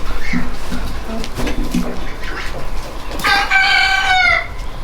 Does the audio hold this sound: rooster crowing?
yes